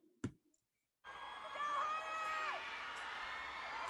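Concert crowd at a US tour show, a large audience roaring and cheering continuously with high whoops and screams ringing out, following a sharp click and a moment of silence.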